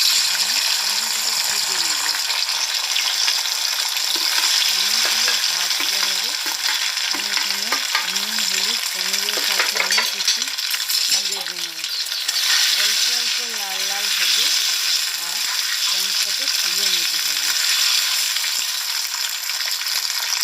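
Paneer frying in white vegetable oil in a wok, a bright continuous sizzle with occasional scraping stirs, close and loud, while someone talks over it much of the time.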